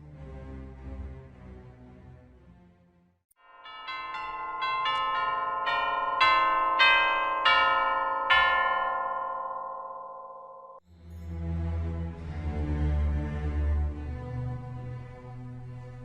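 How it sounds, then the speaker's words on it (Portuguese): Carillon bells ring out in a bright cascade of overlapping struck tones, loud and sustained for about seven seconds, set between stretches of other instrumental sound before and after. "Carrilhão."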